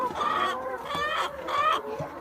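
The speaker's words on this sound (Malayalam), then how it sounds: "അപ്പുറത്തെ സൈഡിൽ കുഞ്ഞു കോഴികളും ഇപ്പുറത്തെ സൈഡിൽ ഇച്ചിരി വലിയ കോഴികളുമായിട്ടാണ് കിടക്കുന്നത്" Hens in a coop holding young chicks and larger birds cluck loudly and close, a run of rhythmic calls rising and falling, with no talking heard.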